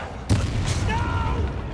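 A sharp magical blast from the Bombarda spell in the Hogwarts Legacy video game lands as a sudden boom with a short rumbling tail, followed by whooshing spell effects over a low game-music bed.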